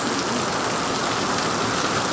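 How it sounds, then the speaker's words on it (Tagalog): Heavy rain pours in the Philippines, heard from shelter at a small store: a dense, steady roar of drops close by, unbroken and without any talking. "Ang ulan ay napakalakas."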